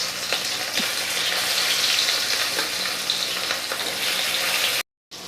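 Pieces of rohu fish frying in oil in an iron wok, giving a steady, close hiss with faint crackles, briefly cut to silence near the end.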